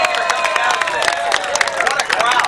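Crowd at a live Saturday-morning radio broadcast at Gladstones 4 Fish restaurant, clapping and cheering steadily and fairly close throughout, with dense broadband hand claps and no clear talk.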